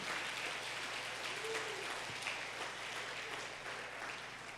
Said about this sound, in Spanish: Dale un aplauso al Espíritu Santo en esta mañana.